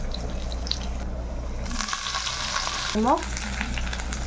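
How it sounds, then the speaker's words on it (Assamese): Black cumin, garlic and chillies frying in a little hot oil give a close, steady sizzle, with a brief clatter of stirring partway through. "অকণমান ভজা নিচিনা হ'ল আৰু একেবাৰে অকণমান তেল দিছোঁ। অকণমান ক'লা জিৰা, ব্লেক জিৰা, 3 ফুটা নহৰু, ধান জলকীয়া"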